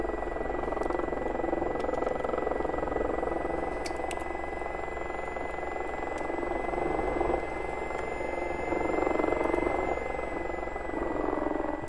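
A steady turbine drone and whine of an SA342 Gazelle helicopter in a flight simulator, hovering during landing practice at a British Columbia logging camp, holding a constant, unbroken tone throughout.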